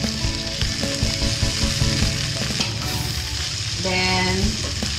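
Garlic, onion and tomatoes sauté in a pan for pinakbet, a loud continuous sizzle with clattering utensil scrapes and stirring, and a fresh burst of frying near the end.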